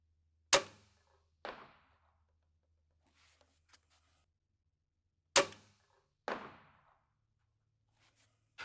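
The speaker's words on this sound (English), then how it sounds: "What we're going to do is fire 2 more shots to confirm where we're at and then adjust from there." Crossbow shots fired at an 80-yard range target, heard as two pairs of sharp, snappy releases, each followed moments later by a duller thwack, with quiet gaps and faint low hum between them.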